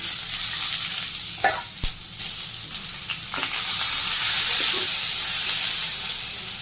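Water lily stems stir-fried in a pan with fried onion and green chilli, a loud continuous sizzle and hiss up close, with a few clacks of the stirring utensil and no voices.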